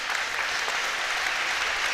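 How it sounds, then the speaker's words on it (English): A netball crowd applauds an injured player limping off, steady dense clapping from many hands that holds evenly throughout, with no talk over it. "quite rightly the crowd giving her a big round of applause for that"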